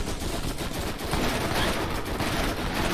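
Rapid gunfire from a weapon in the Borderlands shooter game, a dense, continuous burst of shots running loud and close for the whole stretch, with no talking over it.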